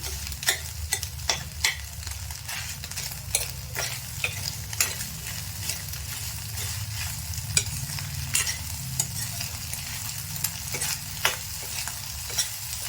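Drumstick flowers and egg fry in a pan as a stir-fry, giving a steady crackling sizzle with frequent sharp pops and scraping stirs throughout, close and continuous with no talk.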